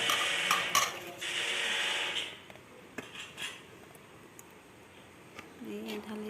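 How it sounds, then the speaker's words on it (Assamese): Mango and chili pickle is tipped from a container into a wok, with metal utensils clattering and scraping against the pan, then quieter intermittent clinks. "কেৰাহীখনত এতিয়া ঢালি দিব লাগিব।"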